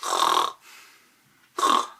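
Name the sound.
storyteller imitating a giant's loud snoring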